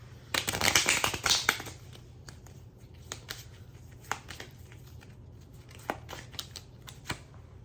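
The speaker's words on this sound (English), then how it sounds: "Let's get on in and do our second shuffle." A deck of cards is riffled close up, a loud flurry at first, followed by scattered softer taps and flicks as the cards settle.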